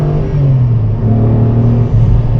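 A light, analog 2000s performance car pulls hard in second gear, its engine note loud and close, a steady droning rumble rising slightly without a break.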